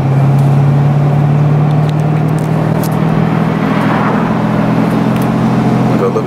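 A Corvette with a manual gearbox accelerates in gear, heard from inside the cabin as a loud, steady engine drone that climbs slightly in pitch, with a little road noise underneath.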